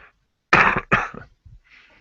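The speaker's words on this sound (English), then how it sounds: "I'm coughing, sorry." Two harsh, close coughs in quick succession, followed by a softer throat-clearing sound and quiet breathing.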